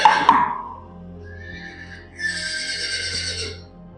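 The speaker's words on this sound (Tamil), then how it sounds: "ஹார்ஸ். குதிரை." A horse whinnies close by, a shrill burst followed by a quavering, fluttering neigh that rises and trails off, heard alone.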